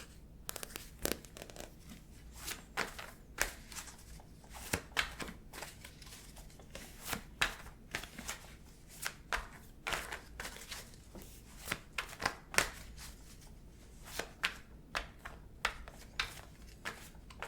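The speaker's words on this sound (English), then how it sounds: "Shuffle very loud, so I'm trying to shuffle softly" Tarot cards shuffled softly by hand, a quiet, close run of papery riffles and flicks in uneven bursts, with no talking.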